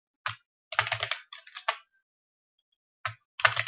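Fingers type on a computer keyboard while writing code, quick clusters of close, crisp key clicks broken by a pause of about a second, then a few more taps.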